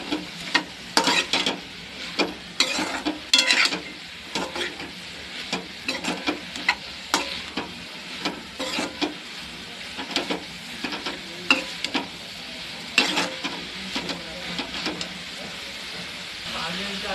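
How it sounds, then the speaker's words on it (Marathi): Marinated capsicum fries in a pan with a constant sizzle beneath many bursts of vigorous stirring and scraping that come in uneven clusters throughout, close and fairly loud. "आता आपण टाकूया ते मॅरिनेशन केलेलं शिमला मिरची. आता मी खाली वर करून घेते."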